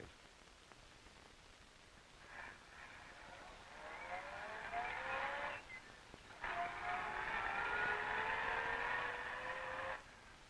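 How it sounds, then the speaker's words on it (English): A service car drives along a rural valley road on a settlers' farm, a droning engine rising and holding steady for several seconds, fairly close, with a brief dip midway before the sound swells again and cuts off. "All along the valley, the settlers see the service car go by"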